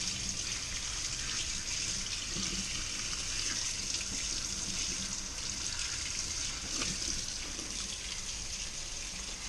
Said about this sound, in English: I'm turning some warm water on.